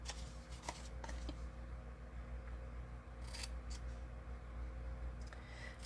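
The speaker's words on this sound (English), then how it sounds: "We're going to cut the 2 score lines going up to the edge score line on each side." Scissors snip through scored cardstock in a few quick crisp cuts, with softer paper handling sounds in between, close up in a quiet room.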